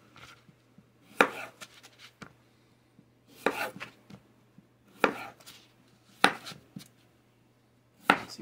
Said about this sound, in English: And now potatoes. So we're gonna cube those up.